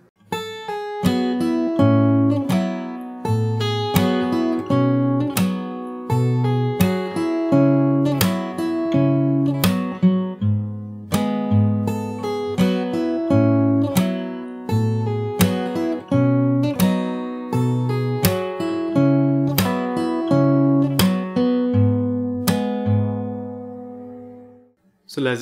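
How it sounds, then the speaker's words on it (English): Fingerstyle acoustic guitar plays the bridge of a song, steady plucked notes and chords with a repeating rhythm, close and clear, played alone without talk. "So I'll play the bridge part once again."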